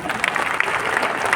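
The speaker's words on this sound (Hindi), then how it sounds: "शादीशुदा लोगों के लिए ताली हो जाए" Audience clapping at a business event in Raipur, a dense steady patter of many hands with a few sharper claps standing out, fairly close and continuous throughout.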